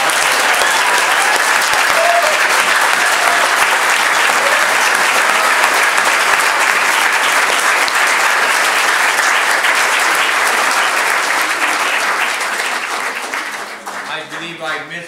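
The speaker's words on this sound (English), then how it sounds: "Now we can give them a big round of applause." Sustained, dense applause from an audience at a town hall meeting fills the space loudly for about twelve seconds, then thins out and fades as a voice begins speaking over it.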